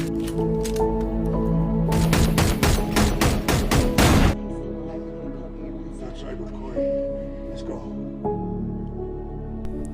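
Rapid burst of gunfire in a film's exchange of shots between armed men, a dense volley of loud cracks lasting about two seconds, set in a soundtrack with music and ambience continuing before and after.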